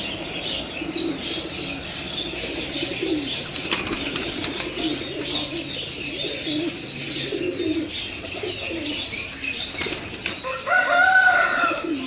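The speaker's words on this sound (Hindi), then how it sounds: "ये जुरा कबूतर है मेरा" Wings flap in quick bursts amid steady pigeon cooing and scattered chirps, with a busier flutter near the end; no voices.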